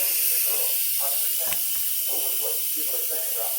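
An Instant Pot releasing pressure while cooking pot roast, venting a loud continuous hiss of very hot steam close by, with a person talking over it.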